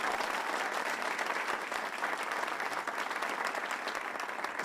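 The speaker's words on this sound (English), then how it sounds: "Let's give them another round of applause as well." Sustained applause from an audience honouring legislation sponsors at a government announcement, a steady dense wash of clapping lasting several seconds without pause.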